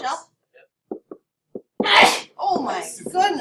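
A person sneezes loudly and suddenly in a classroom during an algebra test review, after a few faint breaths and small sounds, followed by other people talking.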